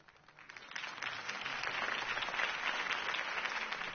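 A video game crowd bursts into applause, clapping building quickly and holding steady as a dense, continuous wash of hands.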